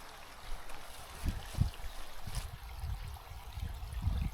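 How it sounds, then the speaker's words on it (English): A mountain stream in the Alps flows and trickles softly at a distance, a faint steady water rush with scattered low rumbles, heard alone without talking. "So soon I should be coming up to the stream. I can hear it."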